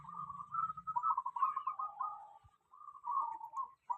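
A local perkutut (zebra dove) coos in a steady, rhythmic series of soft, rolling phrases, close and clear in a quiet setting, with a brief pause before the calling resumes.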